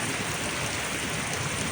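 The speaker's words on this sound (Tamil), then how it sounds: "நல்ல மழைப்பா நல்ல ஊர்ன மழை" Steady, heavy rain pours over village fields, a dense unbroken hiss close around with no voices and no let-up.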